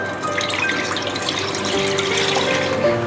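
Water pours into a heavy pot on the stove for semiya payasam, a steady splashing stream close by with no talk.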